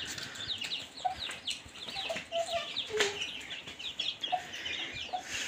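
Free-range laying hens cluck repeatedly in an outdoor farmyard, a steady chorus of short, mid-distance clucks with occasional louder calls and no talking.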